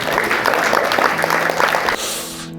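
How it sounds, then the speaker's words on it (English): Audience applause fills a room at a motivational talk, a steady dense clapping that runs loud for about two seconds, then cuts off to a quieter hum. "give a round of applause, Mike."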